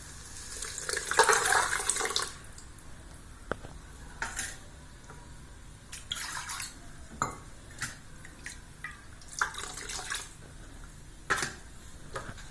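Lentil cooking water being poured into a pan for a pumpkin and raw mango sambar, with a splashing pour at the start followed by scattered clinks and stirring sounds from the kitchen.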